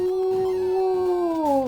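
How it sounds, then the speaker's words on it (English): A dog howls in the Shantae video game, a single sustained tonal wail that holds steady and then bends downward at the end, loud and clear with no talk over it. "and it's clearly a dog"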